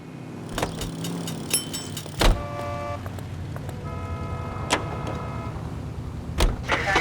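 A car driving in the video game L.A. Noire, with steady road and engine noise, sharp clunks and brief tonal chimes, and no talking.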